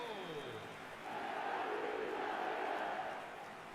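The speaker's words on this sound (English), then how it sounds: "The crowd are calling for this to be put to bed." A stadium crowd in an eFootball match roars in a broad, steady wash that swells slightly in the middle, with faint chanting mixed in.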